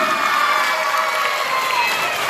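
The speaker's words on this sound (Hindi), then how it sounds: "एक बार जोरदार तालियों से इनका इस्तेमाल कीजिए।" A crowd at a taluka-level quiz competition applauding a team, a continuous, loud wash of clapping mixed with cheering and shouting voices that holds steady throughout.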